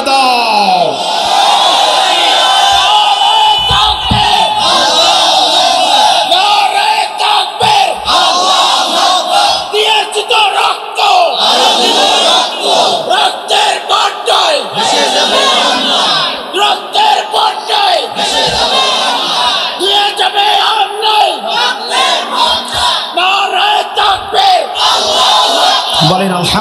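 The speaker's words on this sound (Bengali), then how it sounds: "শেষে একটা তাকবীর দিয়ে আমার আল্লাহকে দেখায় দাও" A large crowd at an Islamic sermon gathering roars takbir together, loud sustained chanting and shouting that swells in repeated waves, with a voice leading over the mass of voices.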